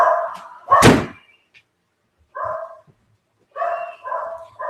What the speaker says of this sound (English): that dog doesn't shut up